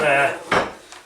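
Cooked rice stirred in a pot with a spoon, a short scraping, clattering sweep against the pot followed by a fainter knock, close and alone.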